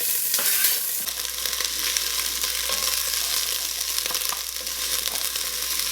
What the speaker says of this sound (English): So this pan is getting hot. We're gonna put in these onions.